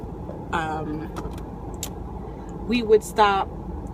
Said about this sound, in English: I'm at the bus station right now waiting on the bus to get here to take me to New Jersey